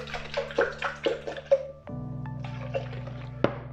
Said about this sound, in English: So I just pour up to 200 ml.